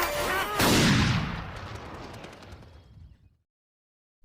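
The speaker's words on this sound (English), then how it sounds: "she ends up shooting Mitch's hand with a shotgun" A shotgun blast in a thriller film scene, one loud booming report near the start that decays into a long rumbling tail before cutting to silence.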